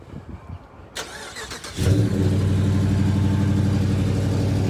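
A Dodge Charger Scat Pack engine cranks briefly and catches, then settles into a loud, deep, rumbling idle that holds steady, close by.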